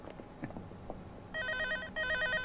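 A telephone bell rings in two sharp bursts, fairly close, following a stretch of quiet background noise in a Hong Kong comedy film scene.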